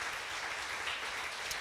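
Applause from a church congregation, a dense, even clatter of many hands clapping at moderate volume for a short stretch.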